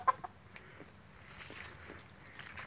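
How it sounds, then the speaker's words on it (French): Soft clucking from chickens, a few scattered low calls with faint rustling or footsteps near a Samoyed dog in a quiet setting. "La découverte des poules."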